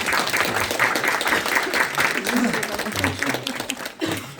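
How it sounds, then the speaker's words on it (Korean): A church congregation applauds a newly baptized infant, the clapping dense and steady throughout with faint murmuring voices mixed in. "박수로 축하해 주시기 바랍니다."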